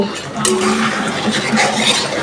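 Water pouring and gurgling into a pot, starting abruptly and running steadily for a couple of seconds, close by.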